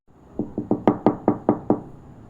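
A loud, close knock on a door as a horror story sound effect: eight hollow raps in a steady, even rhythm, with nothing else around them.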